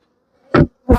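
Honey bees buzzing during a hive inspection, two short loud bursts of buzzing close by, each about a tenth of a second, separated by a brief gap, with near silence before.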